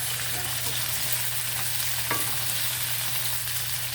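Chopped tomatoes sizzle and fry steadily in a hot pan during home cooking of squid and fish, a continuous close crackling hiss with a brief stir partway through and no talking.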